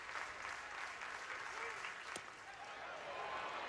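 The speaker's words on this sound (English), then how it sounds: "Another 2-strike buzz coming from the crowd again" A baseball crowd of over 7,000 at UFCU Disch-Falk Field buzzes and claps steadily on a two-strike count, a dense sustained roar with a brief sharp knock partway through.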